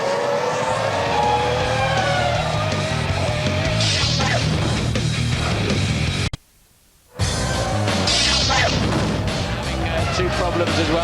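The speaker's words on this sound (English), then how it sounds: "4 engine failures for Jordan so far this weekend, and a pretty big one there for Justin Wilson" Jordan Cosworth Formula 1 car suffering an engine failure at the 2003 Hungarian Grand Prix, Hungaroring: loud continuous engine roar and mechanical noise under race commentary, with a brief dropout midway.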